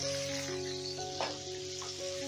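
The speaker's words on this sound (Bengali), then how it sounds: "এবার পেঁয়াজটাকেও আমি হালকা করে ভেজে নেব।" Finely chopped onion frying lightly in a pan, a continuous close sizzle with soft stirring scrapes, alone without talk.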